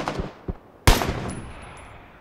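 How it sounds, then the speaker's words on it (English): Suppressed gunfire in PUBG, a few muffled distant shots early on, then a single sharp, louder report that trails off into a lingering decay. "So suppressed guy at the rock shooting at me."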